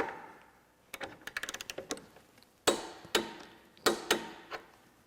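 A torque wrench checks the front axle nut torque, giving a run of rapid ratcheting ticks followed by several sharper, louder clicks spaced about half a second apart, close by with no talking.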